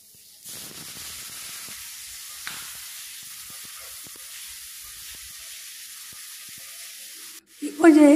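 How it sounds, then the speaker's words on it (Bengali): Spices and bitter gourd pieces sizzle in a pan, a steady moderate hiss with a few stirring clicks, then a louder clatter and scrape at the very end. "মশলা দেওয়ার পর একটুখানি এটাকে ভেজে নিচ্ছি।"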